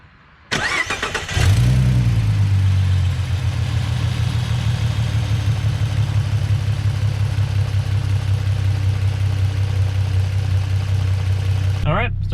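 A car engine cranks and catches, then settles into a steady, loud idle that runs on alone, with a short burst of other noise at the very end.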